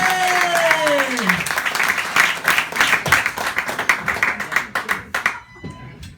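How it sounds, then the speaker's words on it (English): A comedy-show audience applauds a comedian, a lively round of clapping that rises after a voice at the start, then thins into scattered claps before fading out. "Start putting those hands together"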